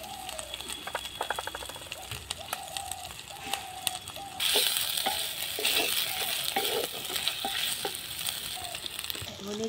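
Chopped tomato hits a pan of fried ginger, garlic, onion and chilli, bursting into a loud, close sizzle after a few seconds of stirring and clinking, then frying steadily with occasional scrapes.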